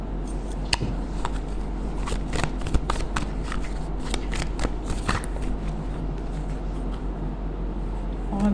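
Tarot cards being shuffled by hand, a steady run of soft riffling flicks and slaps at close range over a low constant hum, with no talking.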